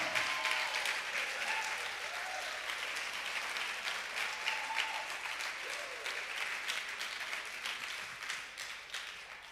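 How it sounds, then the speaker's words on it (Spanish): Steady, fairly soft applause from a church congregation fills the space throughout, a continuous wash of many hands clapping at some distance. "Fuerte el aplauso, fuerte el aplauso."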